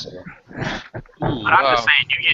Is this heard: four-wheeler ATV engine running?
no